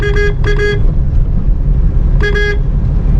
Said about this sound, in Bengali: ওকে হর্ন দিচ্ছি, সরানোর চেষ্টা করছি